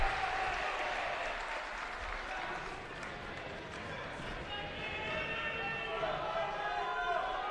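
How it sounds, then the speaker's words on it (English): At a college wrestling dual meet between Loras and Cornell, a home crowd roars and cheers in a gym, a sustained rumbling wash of voices at a moderate distance. "Loras crowd getting into it, getting a little loud here"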